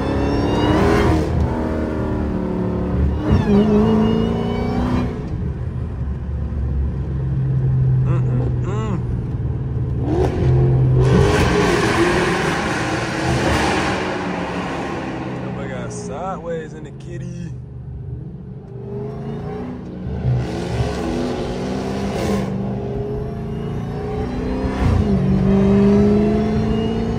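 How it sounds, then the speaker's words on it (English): Dodge Hellcat V8 engine revving hard on repeated downshifts during a late-night drive, heard from inside the cabin as loud roaring surges and rumbling blips, with people talking over it. "downshift over and over. Cause I just love the way it sounds."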